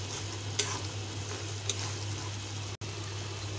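Beef curry with a heap of chili powder and spices frying in oil in a pan, stirred steadily: a constant close sizzle with a low hum beneath and a couple of brief scraping strokes from the spoon.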